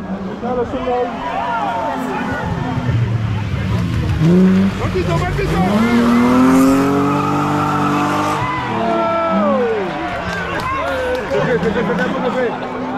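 Rally car at a regional rally in Martinique accelerating hard and sliding, engine revs rising and falling in sweeping tones with tyre noise, loud and close, people talking over it throughout.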